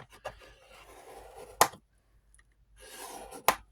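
Paper being scored for a pocket gusset: two sharp close snaps or clicks, each preceded by soft scraping and rubbing, with near-silent pauses between.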